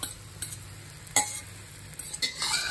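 Beaten egg sizzles softly in a pan while a utensil scrapes and stirs it in a few irregular strokes, faint and close with no talking.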